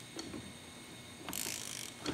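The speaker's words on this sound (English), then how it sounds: "I've got my half inch long ratchet here, and we'll see if we can loosen that up." A half-inch long ratchet clicks as it loosens the nut on a 1963 Chevrolet Biscayne positraction differential, giving a few short ratcheting bursts close by with a longer rasping run in the middle and no talking.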